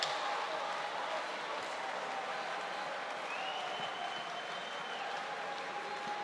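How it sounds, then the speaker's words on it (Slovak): An audience at a charity boxing match applauds loudly and continuously, with crowd noise, a commentator talking over it and a whistle-like tone sounding through. "toto si zaslúži obrovský potlesk"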